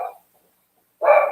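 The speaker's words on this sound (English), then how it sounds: "I'm sorry for the dogs, you'll hear them because I'm live." Dogs bark indoors during a live talk: one short bark at the start, a pause of silence, then a louder, sustained bark close by. No speech is heard.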